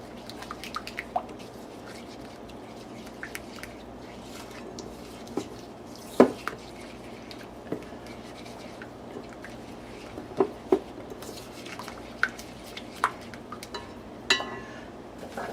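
A seasoning mix with cayenne and rosemary being stirred in a bowl, sparse soft wet squelches and occasional sharp clinks of utensil on bowl, close and quiet with no talking.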